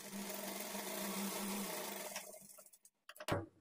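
A sewing machine runs steadily for about two and a half seconds, stitching a border along the edge of a blouse lining, then slows and stops, leaving a few short clicks and handling knocks.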